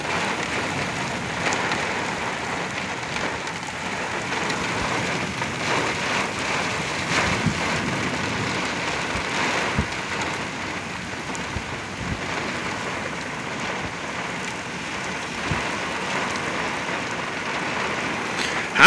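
A derecho-type storm in Oklahoma brings very heavy rain pouring steadily onto surfaces, with gusty wind rushing through and occasional knocks, loud and unbroken throughout.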